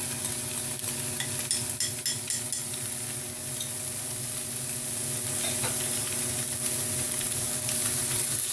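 Tofu imitation eggs sizzle steadily in a hot pan while a utensil stirs and scrapes them in repeated strokes, close and fairly loud, with the frying hiss continuing throughout.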